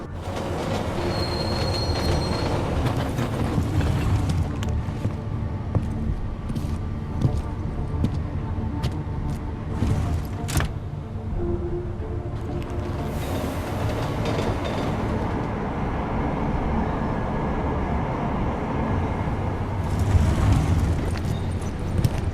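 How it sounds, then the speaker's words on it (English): A metro train in the video game Deus Ex: Mankind Divided rumbles steadily along the rails, wheels squealing at times, a continuous loud roar with no voices. "Chang, make sure there's a metro train available for me at Terminal Station."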